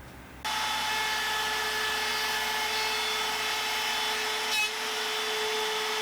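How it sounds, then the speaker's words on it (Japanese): A handheld wood trim router cuts a jig for a converted drill guide and dowel-hole jig. Its motor starts abruptly and then holds a loud, steady, high-pitched whine throughout, with one brief change in load near the end. "今回はトリマーで加工します。"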